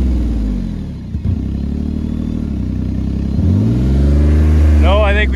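A Pontiac G6 engine revs hard near the mic, holding a loud low drone that climbs in pitch toward the end, with brief clatter, under people talking.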